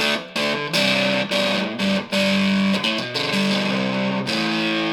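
A Fender Super 60 guitar amplifier plays heavily overdriven, distorted guitar chords in loud bursts with brief gaps, the sustained notes buzzing and harsh.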